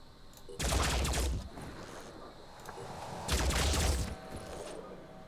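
Assault rifles firing in the tactical game Phoenix Point: two loud bursts of rapid automatic fire, each about a second long, separated by a brief quieter gap.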